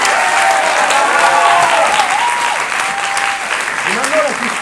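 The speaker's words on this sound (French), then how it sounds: "Applaudissez-les." Audience at an improvisation show applauding, a loud, dense, sustained wash of clapping from a full room, with cheers and voices rising over it.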